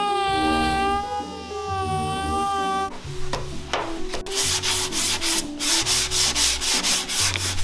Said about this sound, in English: Getting all this sanded.